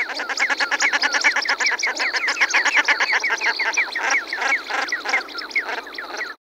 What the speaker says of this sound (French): Enfin, dernier canard de surface, le tadorne de Bellon.